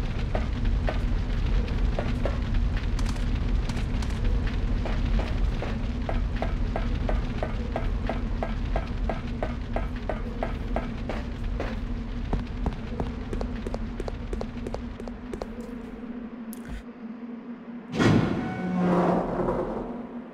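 Fire burning in the prison area of the video game Resident Evil Code: Veronica, a steady crackling roar with rapid regular snaps throughout, fading slightly before a brief louder burst near the end; no talking.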